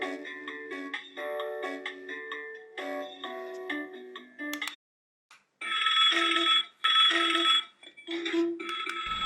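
A Xiaomi emoji alarm clock plays a bright, melodic electronic ringtone in clipped repeating phrases, pauses briefly, then resumes louder with a higher tune in short bursts.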